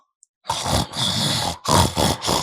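A person imitating a snore with loud, rough snorting grunts like a pig, several throaty bursts in quick succession, close and alone.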